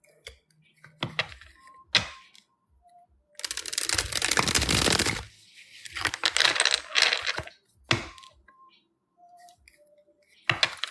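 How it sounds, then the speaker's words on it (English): A deck of tarot cards is shuffled in bursts of dry riffling and sliding card noise between sharp taps and clicks, close up and fairly loud, with short quiet gaps and no talking. "I've been shuffling these cards for a minute."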